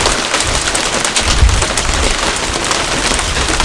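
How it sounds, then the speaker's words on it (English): Hail from a thunderstorm bouncing off a roof, a loud dense continuous rattle and clatter of countless pellets, heard close and unbroken with no voices. "the hail bouncing off the roof up here"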